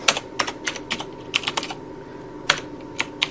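Typing on a computer keyboard while entering Firebase and AngularJS code, heard close up as uneven runs of sharp key clicks with brief gaps between bursts, with no one talking.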